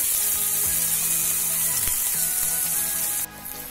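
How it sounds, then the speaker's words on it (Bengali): Onions fry in a pan with salt, a continuous close sizzle and hiss with a few clinks of utensils, the crackle dropping off abruptly near the end. "পেঁয়াজটা ভাজা ভাজা হয়ে এসছে"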